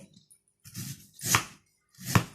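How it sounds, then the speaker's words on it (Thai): A knife slices raw bamboo shoots thinly on a board, giving three distinct, close chopping strokes spaced about half a second apart, each a crisp thud with a bright edge, with no voices. "หั่นบาง ๆแต่หน่อย"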